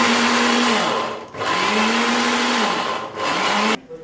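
A blender grinds roasted onion and tomato into a paste, its motor whirring loud and close, dipping briefly twice before the run cuts off near the end.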